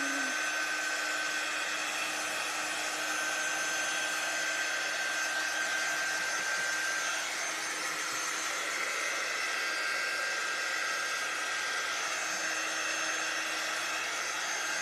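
A hair dryer runs at steady full power throughout, blowing continuously at close range as it dries a freshly wiped surface, with no talk over it.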